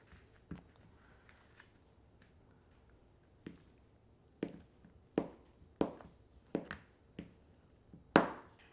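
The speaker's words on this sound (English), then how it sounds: "Now I'm using a potato masher." Potato masher pressing butter, sugar and flour together for a rhubarb apple crisp topping, a series of sharp, close thuds in an irregular rhythm, sparse at first and then coming faster and louder.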